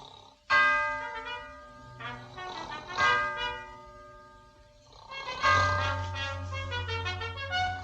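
Ship's bell struck four times aboard a vessel, ringing tones with long ringing harmonics, two strokes close together then another pair after a pause, loud and near, with a low rumble underneath.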